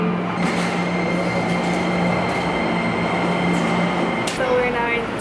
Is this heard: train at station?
yes